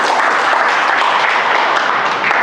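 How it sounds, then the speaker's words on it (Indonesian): A church congregation at a Sunday service claps together in a dense, steady burst of applause that fills the whole moment, with no talk over it. "beri tepuk tangan dulu untuk Tuhan"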